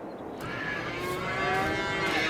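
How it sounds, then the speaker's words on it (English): Cows mooing in Farming Simulator 22, a long drawn-out low moo over a barnyard background, with overlapping calls that grow louder toward the end. "Cows are up, ready to be milked."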